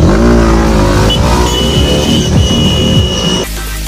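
Hero Xtreme 160R motorcycles rev hard at the start line of a crowded drag race in Hathras. Loud, dense engine roar rises and falls in pitch through several revs, then cuts off sharply near the end.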